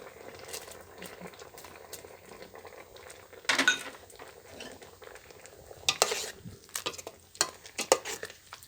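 Rattan curry with red ant eggs being stirred in a pan, a low bubbling bed under scattered utensil scrapes and clinks, with louder clattering bursts toward the middle and end; no talking.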